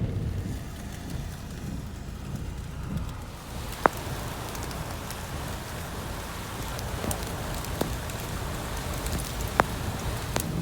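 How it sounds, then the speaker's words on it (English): Steady rain falls on a farm during a heavy storm, a dense continuous hiss with a few sharp drip or tap sounds, moderately loud and with no talking. "It's going to rain hard for a large portion of the morning."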